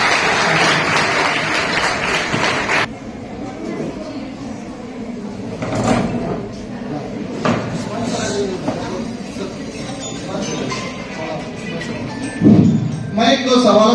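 Applause from an audience at a career guidance and counseling program for students is loud for the first few seconds and then cuts off, followed by scattered thumps and room noise with occasional talk.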